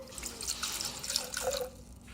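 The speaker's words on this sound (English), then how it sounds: "Place in some water." Water pours into a container with measuring lines for making baby food, a close, moderately loud trickling and splashing stream that tapers off at the end.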